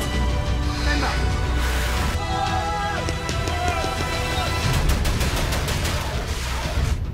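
Rapid bursts of gunfire crack repeatedly in a fusillade, loud and close, with overlapping shots and background noise.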